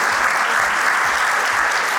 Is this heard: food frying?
no